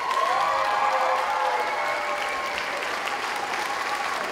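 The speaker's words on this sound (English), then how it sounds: "can we get one big round of applause for the man who organized this entire event" Concert audience applauding steadily for the event organizer, a dense even wash of clapping throughout with some faint cheering mixed in.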